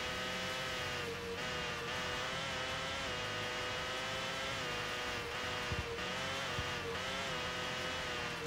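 A Formula 1 car engine from a Dreamcast racing game screams at high revs with a steady, buzzing whine and brief dips as gears shift, continuous and close throughout.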